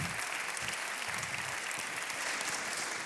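Audience at an evening mentoring event applauding, a dense, sustained wash of clapping from a sizeable crowd that holds steady for several seconds without talk.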